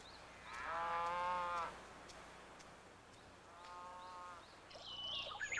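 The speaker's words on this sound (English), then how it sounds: "Cows are considered a great novelty by the Japanese, and tourists from the south come especially to see these farms." Cattle on a dairy farm in Hokkaido, Japan, give two long, drawn-out moos, one near the start and another midway, with faint bird calls and light outdoor ambience between and after them.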